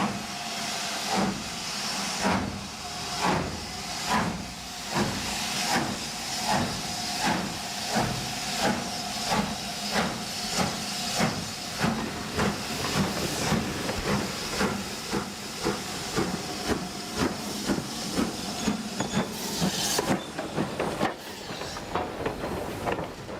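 A steam locomotive chuffs in a steady, quickening rhythm, with hissing steam bursts throughout as the train pulls away.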